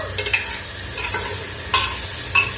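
Peas and potatoes tossed into a hot frying pan, heard as a soft, steady sizzle with a few brief scraping and clinking stirs close by. No one speaks.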